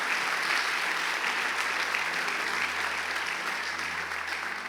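A church congregation applauds steadily and loudly throughout, a dense, sustained wash of clapping that tapers slightly at the end.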